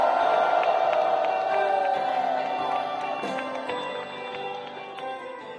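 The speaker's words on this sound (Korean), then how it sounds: "함성으로 맞이해 주십시오." Rally crowd at a Korean protest assembly cheering and shouting, a dense continuous roar of many voices with whoops, gradually easing in loudness.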